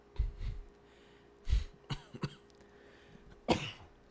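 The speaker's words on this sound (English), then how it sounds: "Sorry for the coughs." A man coughs several times during a UFC 251 watch-along, with two low, chesty bursts early, then short throat-clearing hacks and a final harsher cough, close to the mic and alone.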